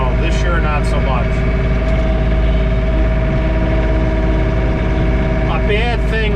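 A John Deere 3046R compact tractor engine drones steadily from inside the closed cab during a blizzard, a constant low hum with faint rattles, with brief speech at the start and end.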